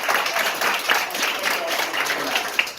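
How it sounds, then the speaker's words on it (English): Audience applause for guests at a marketing presentation in a room, a fairly loud, continuous patter of clapping with a few sharper claps and a faint murmur of voices beneath. "Y'all give our guests a round of applause"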